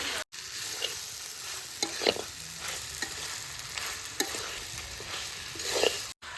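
Meat and potatoes sizzle in a frying pan while being stirred, a continuous crackling fry broken by several scraping strokes of a utensil, close and fairly quiet.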